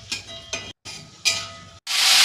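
Panch phoron, bay leaves and dried chilli frying in hot oil in a kadai, giving short bursts of crackling sizzle separated by brief silences, ending in a louder, steady hiss.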